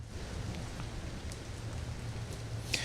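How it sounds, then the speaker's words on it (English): Light rain from the outer bands of Hurricane Milton in Tampa, a steady even patter of drops on surfaces with a soft hiss and little wind, continuous and moderately close. "we're beginning to feel some of those outer bands now from Hurricane Milton. Light rain, wind not too much of a factor now"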